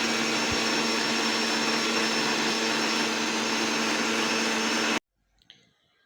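A mixer grinder whirs loudly and steadily as it blends sugar and cake batter, a dense high-pitched motor roar lasting about five seconds before stopping abruptly, followed by faint clatter.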